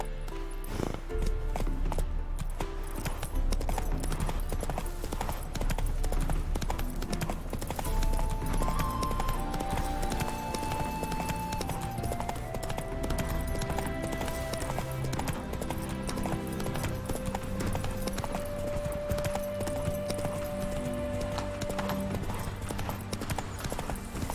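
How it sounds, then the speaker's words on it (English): Horse hooves clip-clopping steadily as a rider travels on horseback in The Witcher 3: Wild Hunt, a loud, continuous rhythmic clatter over game music with a brief whinny near the start. "Whoa there, Roach."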